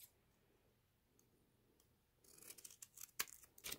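Scissors snip through card during a pinwheel and double triangle folding project, quiet at first, then a close run of crisp, irregular cuts and clicks through the final second and a half, with no talking.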